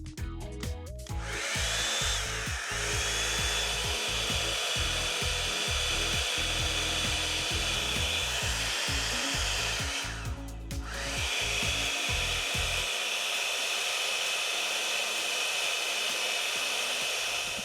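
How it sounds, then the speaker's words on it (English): A hot air styling brush set to medium heat blows steadily on a synthetic lace front bang wig, a loud continuous whooshing hum that runs close-up for most of the span, dips briefly, then resumes, with low rumbling handling knocks early on. "Because this is going to blow air, I want to actually get it in to the barrel first, and then I'm going to turn it on."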